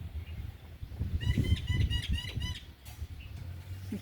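Several birds circling low above a rooftop terrace garden give a brief run of rapid wing flaps, close and fairly loud, over a background murmur.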